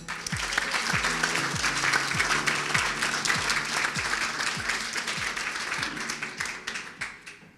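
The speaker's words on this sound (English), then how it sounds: "A round of applause, Chef." Sustained applause from a lunch crowd for the chef at a plenary meeting at Brown's, dense and steady throughout before thinning out near the end.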